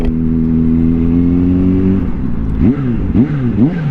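A 2023 Kawasaki Z H2 motorcycle idles steadily, then revs up in several sharp bursts in sport mode, the exhaust note rising and falling loudly and close by.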